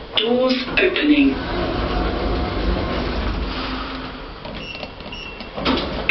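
Lift doors on an Otis Gen 2-type elevator at Mile End Hospital slide open with a steady mechanical whir and rumble, preceded by brief chime-like tones and followed by a clunk near the end.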